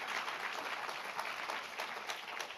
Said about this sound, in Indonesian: Kita boleh berikan tepuk tangan buat Tuhan